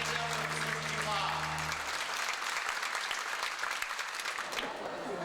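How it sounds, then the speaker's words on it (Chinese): An audience applauding at a literary award ceremony for the winner of a top literary prize, dense sustained clapping filling the hall, at first under a voice speaking over a microphone, then on its own. "我们掌声恭喜李蔻先生"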